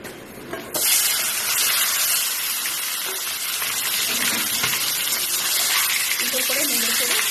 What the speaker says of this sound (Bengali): এবার এর মধ্যে চিকেন পিসগুলো দিয়ে হালকা করে ভেজে নেব।